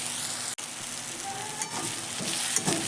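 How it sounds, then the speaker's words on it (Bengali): Ground coriander and Kashmiri chili powder stir-fried in a pan with potatoes and carrots for sabudana khichdi, a steady broad sizzle with occasional scraping stirs and a brief clink near the start. "বেসিক মশলাগুলো যোগ করে তারপর ভালো করে নেড়ে চেড়ে ভেজে নেব।"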